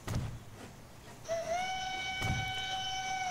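A train whistle sounds in the Transport Fever video game, one long steady harmonic blast holding for about two seconds over a background rumble of rolling rail traffic.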